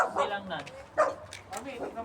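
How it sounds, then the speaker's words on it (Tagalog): A dog barks several times in short bursts, fairly close, mixed with people talking nearby. "May aso guys."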